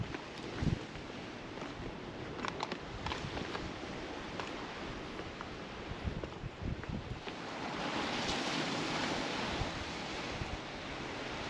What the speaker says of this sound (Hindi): ये समंदर है।